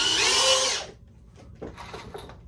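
A power drill drives a screw into the wood of a target stand in one short, loud whining burst that stops abruptly, followed by quiet handling knocks.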